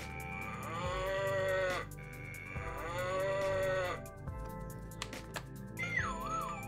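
A cow moo phone ringtone: repeated long, drawn-out moos loop in a synthetic-sounding sequence with electronic tones and a sliding whistle near the end.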